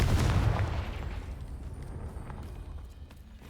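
A Confringo fire spell goes off in the Hogwarts Legacy video game, a loud rumbling explosion that hits at once and then rolls away into a long, fading roar.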